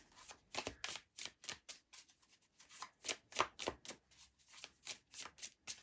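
Tarot cards being shuffled during a love reading, a steady run of crisp riffling bursts in quick, uneven rhythm, close and clear, with no talking.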